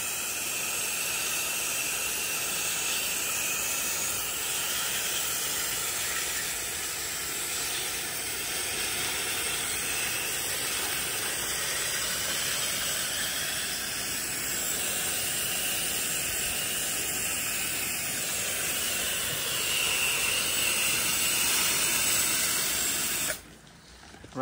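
Steady loud hiss of a water spray rinsing a roof during roof washing, continuous and broadband with no talk, cutting off abruptly at the very end.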